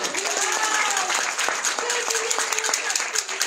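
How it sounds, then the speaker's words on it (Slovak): Audience applause at an awards evening for Mary Kay sellers: a steady wash of hand claps rising and dipping over a few seconds, with a voice faintly talking over it. "To je potlesk, že?"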